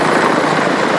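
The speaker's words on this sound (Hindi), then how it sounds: "यहाँ से हेलीकॉप्टर ने उड़ान भर दिया केदारनाथ के लिए।" Helicopter taking off near the Kedarnath route in the Uttarakhand mountains, a loud steady rotor roar with dense broadband rumble that fills the whole moment.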